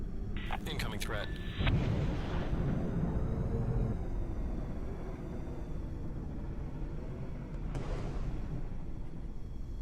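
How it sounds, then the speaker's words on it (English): A carrier's spinal cannon fires in the space combat game Infinity: Battlescape, giving a couple of sharp, crackling blasts followed by a long, heavy rumble, with another burst near the end. "Here's the spinal cannon."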